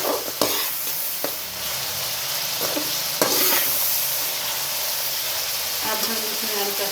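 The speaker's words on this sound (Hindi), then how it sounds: "तो 3 मिनट तक लहसुन अदरक के पाउडर को भून लेते हैं।" Garlic ginger paste fries in a pan for karela gosht, giving a steady, close sizzle with occasional sharp stirring scrapes throughout.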